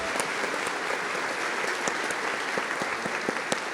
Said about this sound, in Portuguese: Vamos aplaudir ao Senhor pela vida da Jaqueline